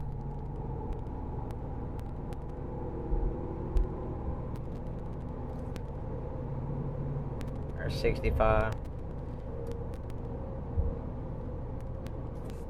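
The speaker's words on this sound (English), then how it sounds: "All right, so we're accelerating." A Ram 2500 pickup on stock tires speeds up on a highway, heard from inside the cab as a steady low rumble of engine and tire road noise, while someone talks over it.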